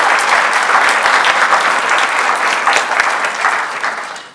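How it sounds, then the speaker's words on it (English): A ceremony audience applauds employees honored for 20 years of service, producing dense, continuous clapping close and loud, holding steady before tapering off toward the end, with almost no voices heard. "A round of applause for all of our 20-year fellows."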